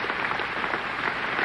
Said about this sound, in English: the whole of the Union standing and applauding this magnificent speech of James